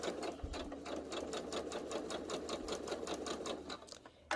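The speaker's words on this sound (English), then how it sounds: "I am going to sew a 1/4 inch back stitching at the beginning. just to make sure that it's nice and snug." A sewing machine runs a quarter-inch back stitch on Dresden quilt pieces, giving a steady, close, rapid mechanical whirr and needle clatter that stays even throughout and stops near the end.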